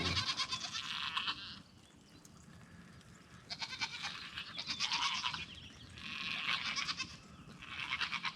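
Goats bleat repeatedly in overlapping bursts, some loud and near, others fainter, over a low steady background hum.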